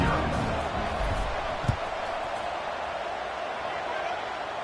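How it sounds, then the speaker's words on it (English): Crowd buzzing in a football stadium at a Miami game after a score, a broad, steady murmur of many voices with one brief thump, heard under a commentator's voice. "this crowd is buzzing after that last score"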